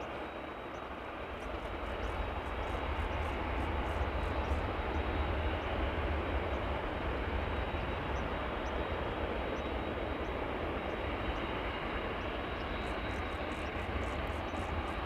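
A Boeing 737-800 bound for London Heathrow, heard at Amsterdam Schiphol Airport as a steady, loud jet engine roar holding for the full stretch with broadband rumble, no talk over it.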